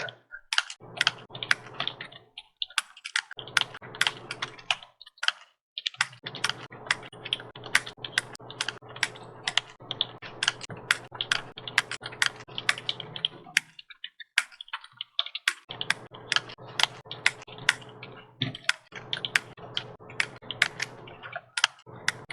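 Steady computer-keyboard typing during a classroom lecture on AI prompt writing: rapid bursts of clicking keys broken by several brief pauses, close and fairly loud, with no talking.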